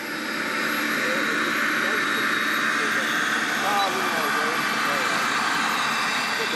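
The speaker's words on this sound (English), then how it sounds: "it's phenomenally quiet on this heli" A model radio-control helicopter's turbine engine gives a steady, loud whine with a broad rushing roar held constant throughout, with a voice faintly audible beneath the engine noise.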